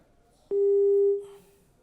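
Telephone busy tone after a phone call is disconnected: a single steady electronic beep lasting under a second, clear and moderately loud over a quiet background.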